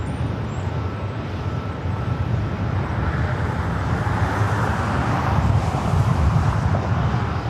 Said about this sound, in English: It's flight 604 heading back to Amsterdam in the Dreamliner.